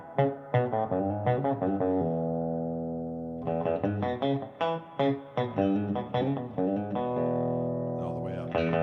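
Electric guitar with Fishman pickups and the tone knob rolled all the way off, played as dull, mellow chords and picked notes with sustained ringing, fairly quiet.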